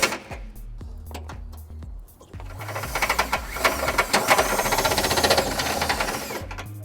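A power drill with a step bit enlarges holes in the frame of a 2018 Honda Accord during a trailer hitch installation. A steady, loud grinding whir builds after a couple of seconds of quieter mechanical ticking and holds for several seconds.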